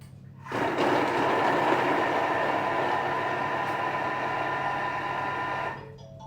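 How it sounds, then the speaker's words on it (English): A lidded kitchen mixer whirs into motion, mixing cubed bacon and cinnamon scroll ingredients with a loud, steady motor drone and churning rattle that starts abruptly, runs about five seconds and then cuts off. "we're going to put the lid on and we're going to mix all this together"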